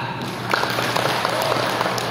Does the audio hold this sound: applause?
yes